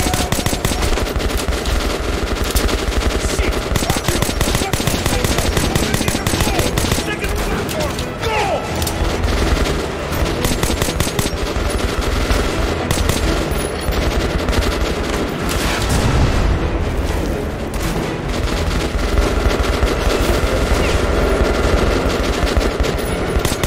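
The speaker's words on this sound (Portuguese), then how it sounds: "Tem que atirar de sniper mesmo" Continuous heavy gunfire from the game Metro: Last Light, with dense rapid automatic bursts and booming shots that run nonstop and loud throughout.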